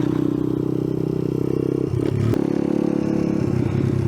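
An Icebear Champion off-road motorcycle that needs repair, idling with a steady low engine drone. A brief clatter and scrape interrupts it midway.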